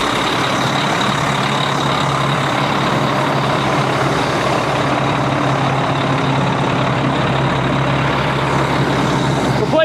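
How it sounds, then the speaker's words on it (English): A big MTVR 6x6 military truck engine runs at a steady diesel idle nearby, a constant low rumble with a hissing broadband wash and no voices over it. "Phil's got the MTVR fired up"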